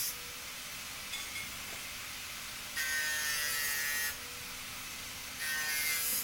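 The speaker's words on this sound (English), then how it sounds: "So I've just put an old sanding disc on to take the burrs off." An old sanding disc on a grinder deburrs the 45-degree bevelled edges of metal pieces being prepared for welding, giving two sustained bright hissing grinding passes over a steady background motor whine.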